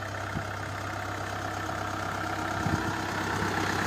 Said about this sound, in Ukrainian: Тракторець працює.